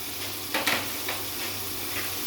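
Whole garam masala and ground spices such as turmeric, Kashmiri chilli, cumin and dried coriander fry in a pan, giving a steady low sizzle with a couple of brief stirring scrapes near the start.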